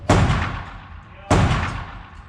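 A Phoenix Drake fires two sharp, loud reports about a second apart, each a sudden crack followed by a ringing, decaying echo outdoors.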